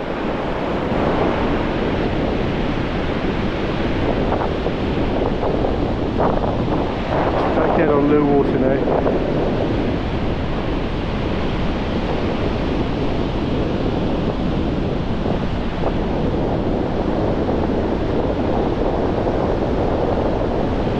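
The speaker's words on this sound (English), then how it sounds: "Enough wind to give a nice surf." Wind and surf roll steadily onto Woolacombe beach in North Devon at low water, a continuous broad roar with gusts buffeting the microphone, while someone talks over it.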